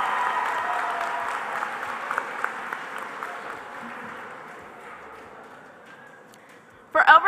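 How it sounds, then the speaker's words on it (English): Audience applause at a SkillsUSA North Carolina state conference opening ceremony, a steady mid-distance wash of clapping that slowly thins out before a sharp loud burst near the end. "Let's hear one more round of applause for our new design winner"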